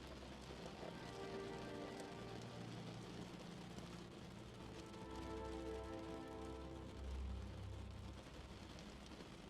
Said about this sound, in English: With the sound of each raindrop, your mind tunes out and into sleep.